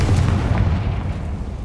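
A Confringo fire spell explodes in Hogwarts Legacy, giving a loud, continuous low-frequency boom and rumble that fills the whole moment and decays only slightly, with no voices heard.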